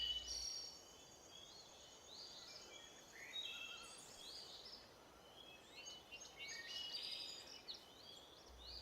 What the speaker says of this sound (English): Only the sound of cicadas and the smell of blood mingled in the humid air.